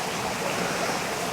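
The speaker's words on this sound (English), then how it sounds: "the water that's coming over the weir is coming underneath the surface, creeping up and over the top of the wall" Water pours over a low weir wall in autumn, a continuous close rushing and gurgling wash with no talk.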